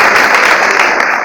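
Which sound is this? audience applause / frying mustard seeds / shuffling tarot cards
audience applause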